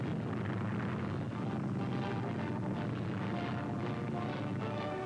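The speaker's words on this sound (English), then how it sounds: "the veteran millionaire pilot brings the XF-11 back to the Culver City Airport" The Hughes XF-11 experimental plane lands at Culver City Airport, heard as a steady, loud, broadband engine and propeller roar throughout, with no breaks.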